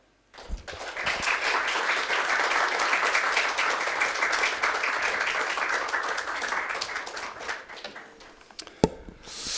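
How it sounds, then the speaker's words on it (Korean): Applause from the congregation at a staff worship service welcomes a pastor, starting abruptly, holding a steady, moderately loud patter of many hands for several seconds, then thinning out with a sharp knock near the end. "나오실 때 박수로 인사하겠습니다"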